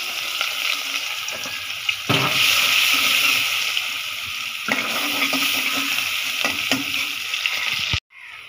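Onion and garlic fry in a pan with a continuous, fairly loud hissing sizzle and a few soft stirring bumps, stopping abruptly near the end.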